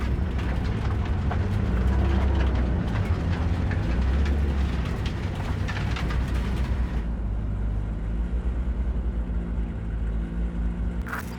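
A moving train in Cyberpunk 2077, a continuous low rumble with rattling wheel clatter that stays loud throughout, the texture thinning slightly partway through.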